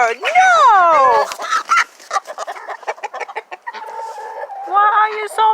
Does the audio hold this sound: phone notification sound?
no